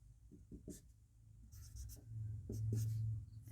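Chalk or marker strokes on a classroom board during a Hindi geometry lesson, a series of short scratchy strokes followed by longer sustained writing, close and fairly clear with no talk over it.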